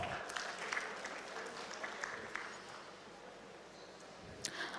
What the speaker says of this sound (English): Please welcome Mr. Palekar with a round of applause.